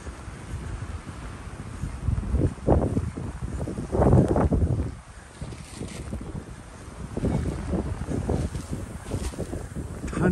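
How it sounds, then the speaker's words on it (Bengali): Cold wind blows hard outdoors during a snowstorm, buffeting close to the microphone in loud, uneven gusts that rise and fall, with no talk. "ঠান্ডার বাতাস।"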